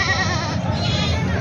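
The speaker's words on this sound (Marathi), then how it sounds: "तर मित्रांनो पाहू शकता काका 2 शेळ्या आणलेल्या आहेत." Goats at a busy livestock market, country goats brought for sale, bleat with a wavering, nasal cry up close over a murmur of crowd noise.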